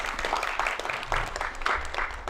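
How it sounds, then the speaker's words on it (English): A small group at a live-streamed workshop gives a short round of applause, steady overlapping claps at moderate volume that fade quickly with no talking over them. "give them a round of applause"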